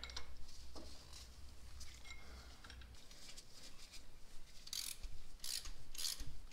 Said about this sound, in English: you can kind of go back and forth with it a little bit on the threads so it doesn't break until it starts moving pretty good